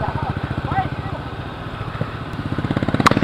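A motorcycle engine chugs in a steady, rapid pulse close by, growing slightly louder toward the end, with faint voices in the background.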